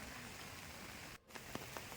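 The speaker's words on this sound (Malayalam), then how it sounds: "നല്ല മഴയായി പിന്നെ പറയാനില്ല അല്ലേ" Steady rain falls at Vadakkunnathan temple in Thrissur, a quiet continuous hiss with a brief dropout and a few distinct drips.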